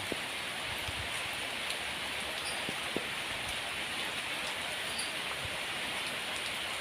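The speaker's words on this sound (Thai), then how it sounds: "ฝนเริ่มหนักแล้วครับนี่" Heavy rain pours steadily outdoors, a constant hiss with faint scattered drops and knocks and no voices.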